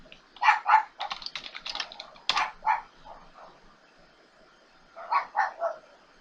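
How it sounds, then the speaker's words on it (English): Typing on a computer keyboard in a quiet room: quick clusters of clicky keystrokes, a few rapid taps then a pause, another short run near the end, close and moderately soft with no voices. "we're going to type in WinVer."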